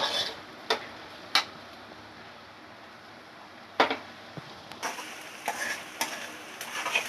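Onions and green chillies frying in a pan for Telugu egg pulusu make a soft, steady sizzle, broken by a few sharp clicks from stirring. No one speaks.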